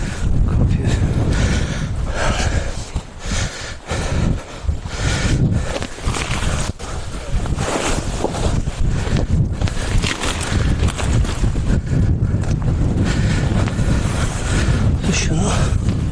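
A tent shaking violently in strong wind and heavy rain, with loud buffeting gusts, flapping fabric and rough rumbling noise across the microphone, as people talk nearby.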